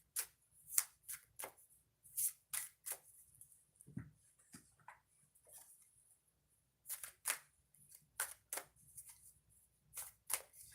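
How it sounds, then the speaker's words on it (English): A deck of cards being shuffled in quick riffling bursts, with a pause midway before the shuffling resumes, close and fairly quiet. "I'm going to shuffle the deck"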